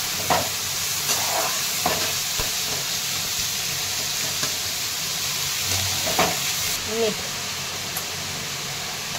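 Onion, tomato and curry leaves sauté together in a hot pan for a Maharashtrian farsan dry vegetable, a loud steady sizzle with occasional stirring scrapes and pops.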